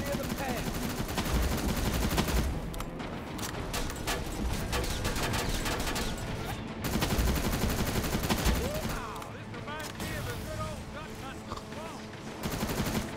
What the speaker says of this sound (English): Oh, I was just shooting air.